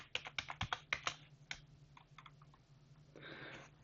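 A computer keyboard types a password in a quick run of crisp, close key clicks, then scattered slower taps and a short soft rustle at the end, with no one talking.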